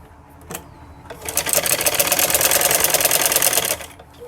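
A sewing machine runs in one steady burst of rapid stitching for about two and a half seconds, stitching folded kurti sleeve pieces up close, with a brief click before it starts.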